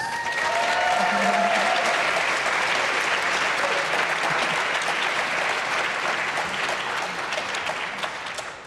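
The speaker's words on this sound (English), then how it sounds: "Can we get another round of applause?" Audience applause for a discussion panel at the close of a session, a dense, steady wash of clapping that holds loud throughout and tapers slightly near the end, with a few voices faintly underneath.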